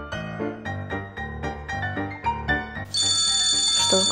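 A phone ringtone cuts in abruptly and loudly near the end, a sustained bright electronic ring over steady background music in an indoor study setting.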